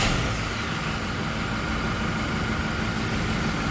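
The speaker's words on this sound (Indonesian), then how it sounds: "Selanjutnya kita hidupkan mesin. Nah, kita lihat di sini, lalu kita hidupkan mesinnya." A Toyota Innova diesel engine idles steadily after being started, a constant loud rumbling drone with no change in pace and no voices over it.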